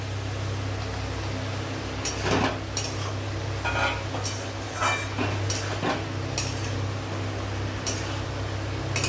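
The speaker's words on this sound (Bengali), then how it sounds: "ভালো করে নেড়ে নেব।" Ash gourd and green chilies stirred in a pan, with intermittent scraping and clinking of a utensil against the metal over a steady background hum.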